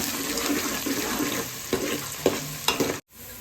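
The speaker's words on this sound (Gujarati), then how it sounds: "સૌથી પહેલાં ડુંગળી સાંતળવાની" Onions sautéing in a pan give off a steady, close hiss of frying, broken by a few scraping stirs and light clatters, then stop abruptly near the end.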